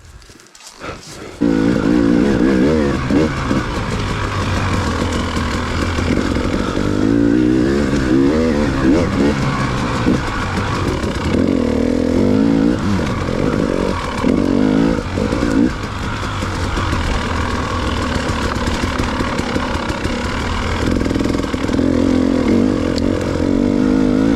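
A single-cylinder dirt motorcycle ridden at Goshen, its engine droning loudly and constantly with repeated rises and falls in revs over about twenty seconds.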